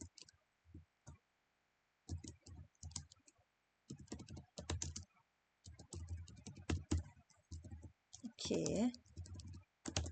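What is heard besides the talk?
typing on a computer keyboard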